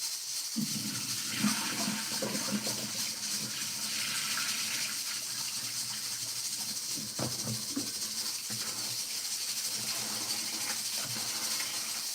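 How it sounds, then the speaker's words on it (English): Water runs steadily from a tap while rice is rinsed of starch in a kitchen during early morning Jamaican cooking, a continuous faint gush with small splashes and clatters throughout. "Washing off all the starch, all the starch from the rice."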